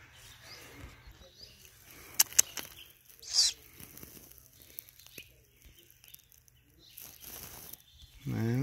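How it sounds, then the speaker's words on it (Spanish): An owl at its nest in a wild setting, with soft, brief wing flaps and rustling heard faintly and intermittently against a quiet background. "Me imagino que es el mismo búho que viene y pone su."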